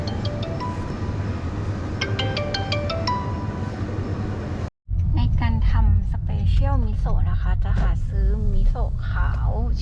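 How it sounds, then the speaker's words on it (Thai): A mobile phone rings with an incoming call, its electronic melody of bright repeating tones playing for about five seconds before stopping abruptly, after which someone talks over steady background noise. "มีโทรศัพท์มาค่ะ"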